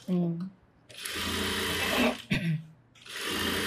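A sewing machine stitches a churidar in two fast, whirring bursts, nearby and loud, with a person speaking briefly before and between the runs.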